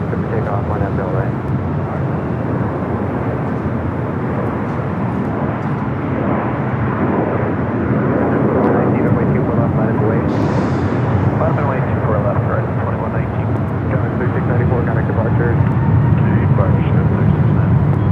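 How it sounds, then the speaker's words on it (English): A Delta airliner on takeoff from runway 24 left at LAX gives a steady, loud, broad engine roar that swells slightly over the span, with a voice talking over it. "Delta 1146, runway 24 left, good for takeoff, line up"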